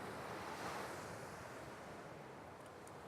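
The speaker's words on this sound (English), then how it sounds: "the wind is blowing in our faces" Steady coastal wind buffeting the microphone over constant surf washing in, a continuous broadband rush with no talk, moderately loud and unchanging throughout.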